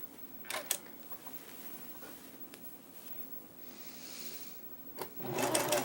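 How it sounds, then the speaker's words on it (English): A sewing machine stitches a zipper with a zipper foot, running in short bursts with quiet mechanical whirring and clicks, stopping and starting, fairly faint and close. "pivot, and sew up the rest of your zipper"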